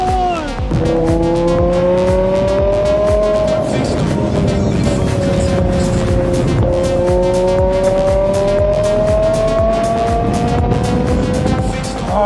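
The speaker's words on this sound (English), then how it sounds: "The feeling that this engine gives you is like nothing else. The V10 feels absolutely amazing." The V10 engine of a 2006 BMW M6 E63 revs hard and climbs through the gears, its high-pitched wail rising and dipping between shifts, loud and close for the whole stretch.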